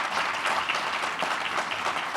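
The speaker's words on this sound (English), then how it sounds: "So round of applause." A crowd claps steadily for a couple of seconds, a warm, dense applause with no voices over it.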